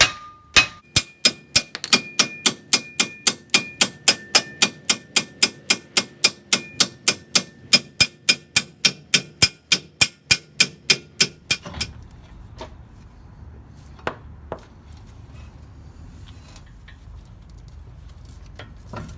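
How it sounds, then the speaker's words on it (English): A hammer taps on the steering spindle of a four-wheel-drive Ford Ranger to free the ball joints, striking in a steady, evenly spaced series of sharp metallic blows with a ringing edge before the strikes stop and only faint scattered knocks remain. "with a little persuasion from a hammer, you're going to want to tap on the lower spindle at the lower ball joint"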